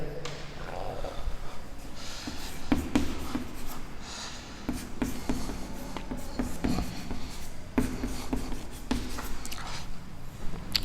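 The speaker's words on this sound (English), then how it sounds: "Now then another thing I am going to write here." Chalk or marker writing on a board during a chemistry lesson on hydrocarbons and isomerism, heard as steady scratchy strokes and taps close by, with occasional faint sounds from the room and no clear talk.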